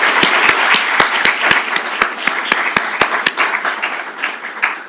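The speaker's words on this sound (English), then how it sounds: "I want to give a round of applause to Dr. Carvalho and HJF as well." At an awards ceremony, an audience applauds with a steady wash of many hands clapping, some sharp individual claps standing out near the front, and the applause thins slightly toward the end.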